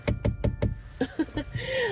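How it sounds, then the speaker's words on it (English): Four sharp, evenly spaced knocks on a door or wall ring out close and loud, followed by softer, more scattered taps. "like a light knocking or something like that, in the walls, or maybe even on your door"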